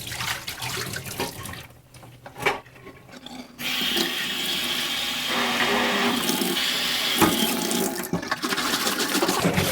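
Water sloshes and pours in the dirty water tank of a Bissell carpet cleaner, a loud continuous rushing gush broken briefly by a short lull, close up with no talk.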